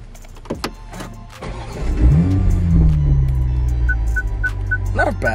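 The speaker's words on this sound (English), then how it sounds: "I'm going to start one of these cars real quick." Engine start of a new Toyota GR Supra A91 sports car at a media launch, a whirring crank followed by a rising rev that settles into a loud steady idle, nearby, with a few electronic chimes near the end.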